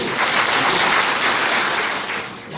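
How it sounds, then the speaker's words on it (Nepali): Congregation clapping to welcome a preacher at a church service, dense steady applause from many hands, loud and close, tapering slightly at the end. "उहाँलाई हामी ताली बजाएर स्वागत गरौँ"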